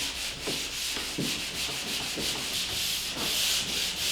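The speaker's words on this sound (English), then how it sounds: "This is a switch box I'm sanding over." Rhythmic back-and-forth sanding strokes scrape drywall joint compound over a switch box close by, a steady gritty rasp repeating about twice a second.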